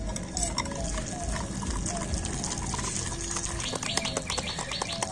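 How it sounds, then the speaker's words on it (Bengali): Semolina batter being stirred with warm water, wet sloshing and scraping strokes close by over a steady background, with faint birdsong and other ambient noise throughout. "তো এই উষ্ণ গরম জল দিয়ে ব্যাটারটা গুলে নেব"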